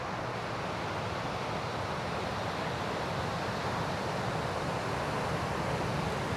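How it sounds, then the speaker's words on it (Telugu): Ocean surf at Spanish Bay beach rolls in as a steady, soft wash of breaking waves, distant and unbroken, with no voices. "ఆ బీచ్ వాటర్ సౌండ్ ఎంత ప్రశాంతంగా ఉందో"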